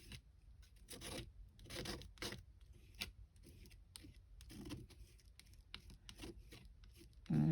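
Colored paste is scraped through a stencil with a spreading tool, a series of close, rasping strokes in an irregular rhythm, each a short gritty rub followed by a brief pause.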